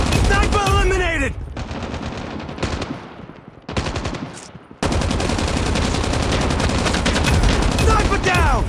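Rapid machine gun bursts in the mobile shooter Call of Duty Mobile, loud and close, with a short lull midway before sustained continuous fire resumes.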